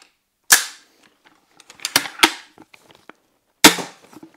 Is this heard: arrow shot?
yes